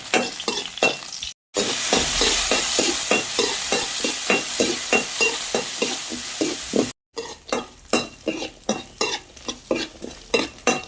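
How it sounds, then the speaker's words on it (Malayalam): Shallots, dried red chillies and chopped coconut fry loudly in a pan, a steady sizzle broken by rhythmic scraping stirs that turn sharper and more distinct toward the end. "കൊച്ചുള്ളി, വറ്റൽമുളക്, ഇതിലേക്ക് തേങ്ങ കൊത്തി കൊടുക്കാം."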